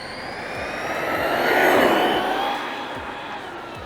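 An Arrma Outcast RC car running on a 6S battery passes at speed, its high electric motor whine swelling as it approaches and fading away, loud and steady over about four seconds.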